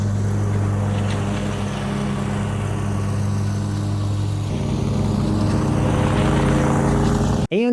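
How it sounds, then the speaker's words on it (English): An electric John Deere zero-turn mower runs with its blades engaged at top speed, a steady, close whirring drone with a low hum. It holds even throughout and cuts off sharply in a brief knock at the end. "And the John Deere with the blades engaged at the highest speed, or basically the loudest that it can be."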